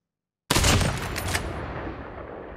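Burst of automatic gunfire in the video game Call of Duty, starting abruptly after a moment of silence as a loud rattling fusillade that decays into a lingering rumble.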